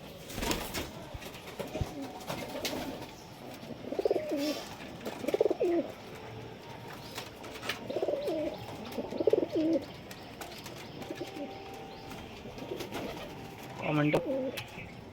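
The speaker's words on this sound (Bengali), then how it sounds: "এই একটা আমার লাল চোখের পায়রা, অনেক পুরনো ব্রিডিং পেয়ার এটা আমার" Red-eyed breeding pigeons cooing in a loft, several soft rolling coos in spaced bursts with occasional chirps and a brief wing flutter, fairly close under a quiet background.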